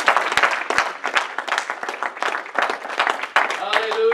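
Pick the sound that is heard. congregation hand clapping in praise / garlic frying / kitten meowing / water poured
congregation hand clapping in praise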